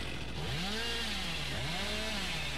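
Chainsaw revving in the Dead by Daylight horror game, two rising engine surges over a steady loud idle drone, close and continuous with no talk.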